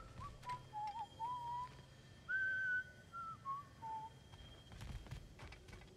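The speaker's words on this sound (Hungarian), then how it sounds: "Fütyül." A character in the video game God of War Ragnarök whistles a short wandering tune of sustained notes, fairly clear over a low hum of game ambience, with a few faint ticks.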